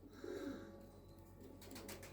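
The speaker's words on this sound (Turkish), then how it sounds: "Bakınız her tarafta kuş var." Racing pigeons coo softly in a loft, low rumbling calls blending into a busy background with faint chirps, steady and fairly distant rather than close.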